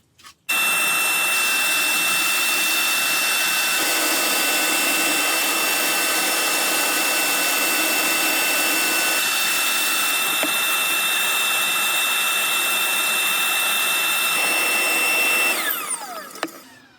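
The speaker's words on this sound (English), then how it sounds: "I'm going to turn the extractor on" A loud, steady whine of a dust extractor in a woodturning workshop runs continuously, starting abruptly and winding down at the end, with no voices.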